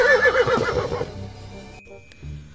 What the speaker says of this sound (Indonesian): ternyata ini kuda teman-teman